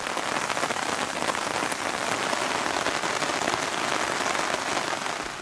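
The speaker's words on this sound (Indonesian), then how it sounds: "Hujan turun." Steady rain pattering down across a solo campsite in Indonesia, a dense even hiss of drops on surfaces with no pauses and no voices.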